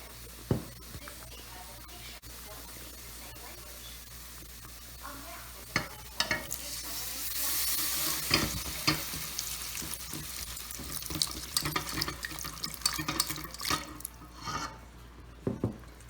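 Milk is poured slowly into a pan while a spoon stirs, producing soft sizzling and liquid swishing with scattered scrapes and clinks, fairly close and quiet.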